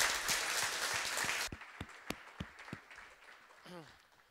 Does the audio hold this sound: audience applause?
yes